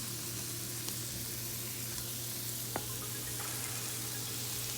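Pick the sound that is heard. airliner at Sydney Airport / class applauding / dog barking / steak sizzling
steak sizzling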